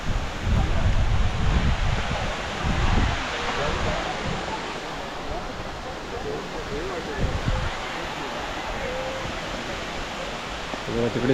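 Kalu waterfall seen on a jungle trek, a steady broadband rush of falling water filling the clip at moderate level, with low wind buffeting on the microphone in bursts near the start.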